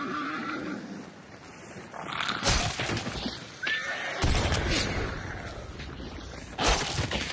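A horse whinnies in a video game amid sudden crashing and shattering noises, with hoof-like clatter and loud bursts breaking the quieter background.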